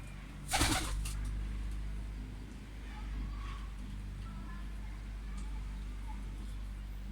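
Pet pigeons, a nesting pair around fresh eggs, coo softly and low under a steady background hum. A brief burst of wing flapping comes early on.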